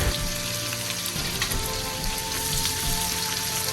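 Onions and curry leaves frying in hot ghee in a home kitchen pan for sambar rice, giving a steady, close, busy crackling sizzle that runs without a break, with no voices over it.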